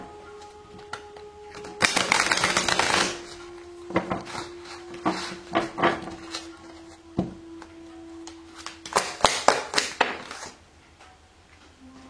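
Tarot cards are handled and shuffled in quick, irregular bursts of riffling and slapping, with a longer flurry early on and a steady faint hum underneath.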